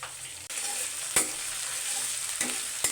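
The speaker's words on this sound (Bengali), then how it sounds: "পেঁয়াজ আদা রসুন বাটা ভেজে নিয়েছি" Onion, garlic and ginger paste fries in a pan, a steady close sizzle punctuated by several sharp scraping strokes of a spoon stirring against the metal.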